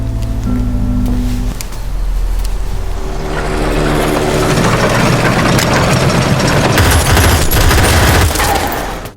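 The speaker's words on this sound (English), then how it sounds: "While a firefight raged below" A firefight from the film Believer 2: a low engine hum gives way to loud, dense bursts of rapid gunfire, crackling shots piling up and continuing to the end, with no one speaking.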